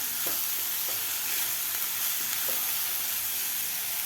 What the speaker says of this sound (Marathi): व्यवस्थित आपल्याला खालच्या मसाल्यामध्ये हा मसूर मिक्स करून घ्यायचा आहे